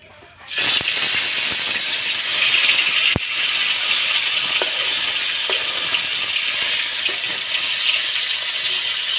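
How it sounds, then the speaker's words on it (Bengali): Tilapia fish rubbed with turmeric, chili and salt fries in hot oil, a steady loud sizzle and hiss that starts sharply after a brief quiet moment and continues unbroken, with occasional small pops and clicks. "এই মাছগুলা ভেজে নিচ্ছি"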